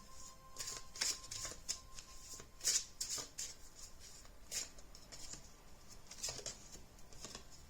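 A deck of oracle cards is shuffled by hand, quiet crisp riffles and slaps coming in irregular bursts, close and soft with no talk.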